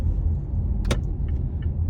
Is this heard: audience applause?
no